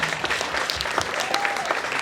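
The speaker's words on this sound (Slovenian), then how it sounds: "Ja, aplavz, seveda, bravo." Steady applause from a crowd, dense and continuous clapping filling the whole stretch, with a faint voice briefly rising above it.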